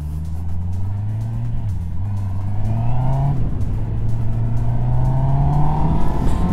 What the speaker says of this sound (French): Je passe mes rapports, mais en fait il n'y aurait pas besoin parce qu'il y a un shifter